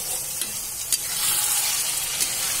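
Food fries in a pan over a medium flame, giving a steady, close sizzle broken by a couple of quick scraping stirs. Nobody speaks.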